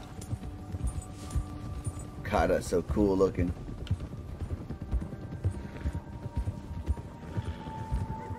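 Horse hooves clip-clopping at a trot in the video game Red Dead Redemption 2, a steady rhythmic beat with a brief whinny in the middle, while someone talks over it.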